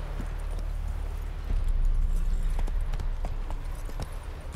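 A horse's hooves clip-clop in a steady, even rhythm in a fantasy role-playing game, close and fairly loud over a low rumbling backdrop.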